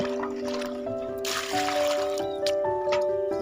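Broad beans being rinsed by hand in water for a home-cooked potato and bean dish, with soft sloshing, squishing and dripping over a steady tonal hum, close and moderately quiet.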